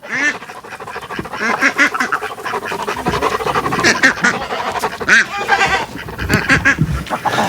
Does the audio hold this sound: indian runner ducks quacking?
yes